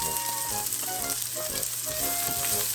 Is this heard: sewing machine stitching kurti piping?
no